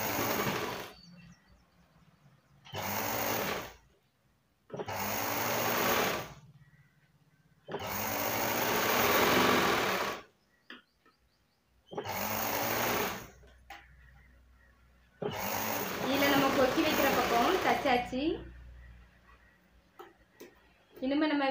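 A domestic sewing machine stitches a blouse in several loud, steady bursts of a few seconds each, separated by short pauses. The last run sounds rougher and more uneven than the others. No one speaks over the stitching.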